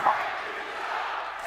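Basketball arena crowd at a UNLV versus Colorado State men's game groaning and booing at a no-call, a broad steady roar of many voices filling the hall at moderate loudness.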